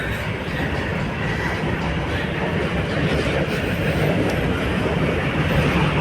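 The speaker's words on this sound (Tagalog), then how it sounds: "dumadaan ang tren." A train rumbles past continuously, a dense, steady roar with faint clattering that swells slightly toward the end.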